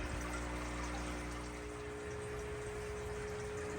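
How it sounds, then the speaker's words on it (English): Dechlorinated water, treated with conditioner, is poured back into a home fish tank to replace a quarter of its volume, making a steady, unbroken splashing rush over a low constant hum, with no voices. "I will add that water back into the fish tank to replace the quarter of the water that I took out."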